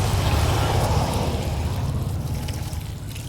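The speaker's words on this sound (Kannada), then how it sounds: "ನಾನು ನೀರು ಹಾಕ್ತಾ ಇದ್ದೀನಿ." Water is poured onto a garden plant during the monsoon season, a steady close splashing and trickling that eases slightly toward the end, with no talk.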